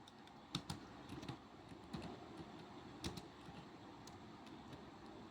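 Quiet keystrokes on a computer keyboard click in short irregular bursts against a low background hum, soft and close, while entering expressions in a statistics program.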